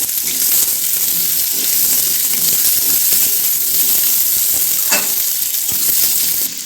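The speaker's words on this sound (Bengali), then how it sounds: "এগুলো ভালোভাবে আমি একটু ভেজে নেব লাল লাল করে" Carrot pieces fry in a pan with a loud, constant sizzle, broken by occasional stirring sounds.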